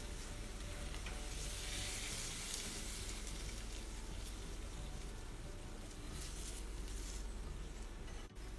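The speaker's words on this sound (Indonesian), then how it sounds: "Airnya sudah mendidih, masukkan bumbunya ke dalam panci." Spice paste goes into a pot of boiling water for sop kimlo soup, giving a steady, faint sizzling and bubbling hiss with light stirring, no talk.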